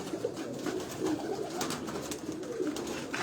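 Kabuli pigeons, babies among them, coo softly and continuously in a large rooftop loft, a low murmuring chorus with no voices over it.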